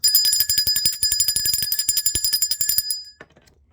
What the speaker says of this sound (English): Ring the bell for that.